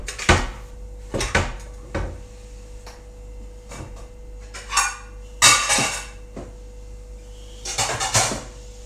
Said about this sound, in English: I just slowly put the dishes away over the day as I go.